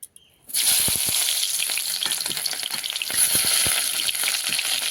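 Onion and garlic go into hot oil in a pan after potato and Malabar spinach have been fried, setting off an abrupt, loud, continuous sizzle close by, with occasional stirring scrapes.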